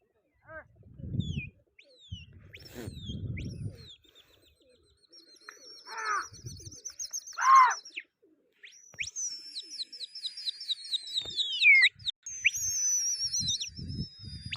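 Pigeons in a flying competition call with soft coos and chirpy whistles, mixed with bursts of nearby human voices, and at times a thin, wavering whistle passes overhead.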